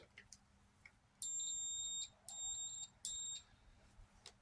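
Three high electronic beeps from a multimeter continuity test sound in a row, each lasting most of a second with short gaps between, clear against a quiet background.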